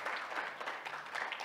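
Dense, steady audience applause fills a hall at an international congress on world civilizations, close and continuous for the whole moment.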